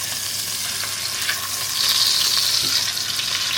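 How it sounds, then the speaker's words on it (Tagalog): Pork pieces sizzle and fry in a pan as they brown for a red wine stew, a steady close crackling hiss with a brief brighter flare midway and no talking. "Ipiprito ko lang siya na mag-brown yung"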